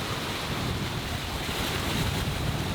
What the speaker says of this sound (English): it just would not be a true South African coastal passage if the winds didn't at least want to touch up over 30 knots occasionally. So it's blowing.